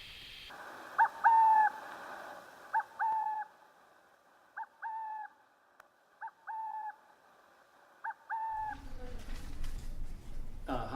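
Western burrowing owl calling outdoors, a series of about six short, clear hooting calls at irregular intervals, fairly close, followed by a rustle of handling noise at the end.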